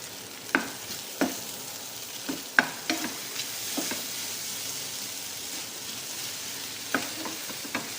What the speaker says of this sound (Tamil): நல்லா ஃப்ரை பண்ணுது